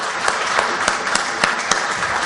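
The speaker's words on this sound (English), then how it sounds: "I think we should give a big hand of applause for what they've done" Audience at a conference applauds, a dense steady wash of many hands clapping at close range, with a few sharper individual claps standing out.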